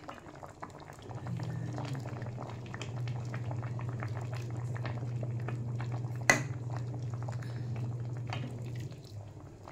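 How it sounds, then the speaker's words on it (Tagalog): Milkfish soup with leafy vegetables boils steadily in a pot, giving a continuous close bubbling hiss with a single sharp clink of metal partway through. "pakuluan lang natin kasi yung fish madali lang maluto yan"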